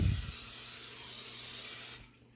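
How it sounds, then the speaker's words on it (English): A steady hiss of cooking spray sprayed into a crock pot runs for about two seconds, close and even, then stops abruptly. "spray my crock pot really good"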